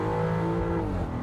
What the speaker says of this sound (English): I'm gonna shift manually. I'm gonna hit it.